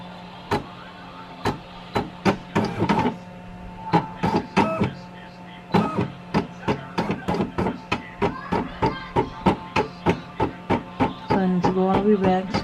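A Brother PE800 embroidery machine stitches a towel in sharp, regular needle clacks, loud and close, with brief pauses in between and a steady mechanical hum underneath.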